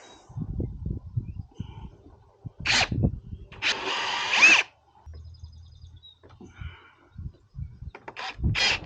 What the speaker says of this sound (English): The nice thing about these step bits, I find they don't wander as much though when you don't center punch it